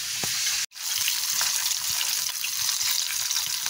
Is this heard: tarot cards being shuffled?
no